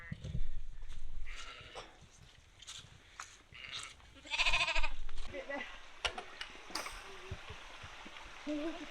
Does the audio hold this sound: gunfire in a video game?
no